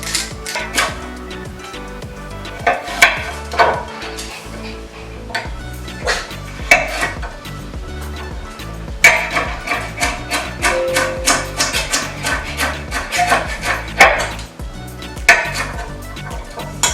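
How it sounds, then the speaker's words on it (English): A knife chops potatoes and carrots on a cutting board in a home kitchen, giving sharp, irregular knocks in bursts of rapid strikes over quiet background music, with no speech. "peeling and chopping our potatoes and carrots"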